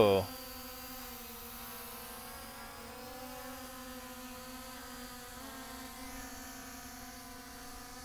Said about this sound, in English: you can spin up the props by either bringing the sticks down and in or pushing the lock button